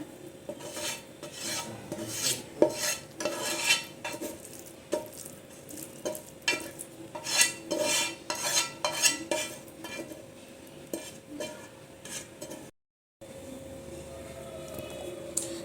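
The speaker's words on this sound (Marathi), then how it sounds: "भात आपण आता या बाउलमध्ये संपूर्ण काढून घेऊया अशा पद्धतीवर." A spoon scrapes and scoops cooked coconut rice out of a pan into a bowl: repeated rough scraping strokes at close range, irregular in rhythm, with a brief dropout near the end and no one speaking.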